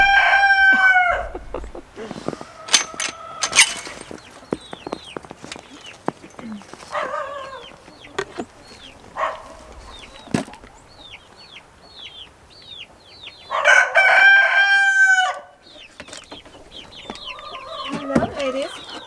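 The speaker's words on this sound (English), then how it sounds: "let's go take a look at the chickens, the baby chicks" Young chickens cluck and chatter close by in scattered bursts, with a rooster crowing loudly twice and some handling noises between the calls.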